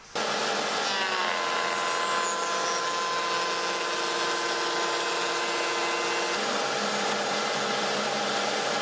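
A router spins up on a new router table fitted with a 1/4-inch slot-cutting bit, a loud, steady high whine held close throughout with a slight shift in tone near the end, no voices.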